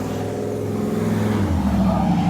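A car rolls past on a street at night, a loud, close engine rumble whose pitch drops as it goes by.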